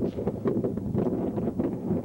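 Steady wind buffeting the microphone outdoors, a continuous low rumbling roar with gusty fluctuations and no talking.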